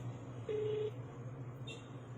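A single short dial tone beeps faintly as a phone call is placed, over a low steady background hum.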